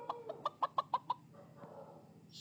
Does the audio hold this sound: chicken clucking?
yes